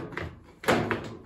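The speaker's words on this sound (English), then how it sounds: "There's that plastic drawer." A plastic drawer in a heat-damaged appliance is pulled, giving a few quick, close plastic knocks and a scraping slide, all over in about a second.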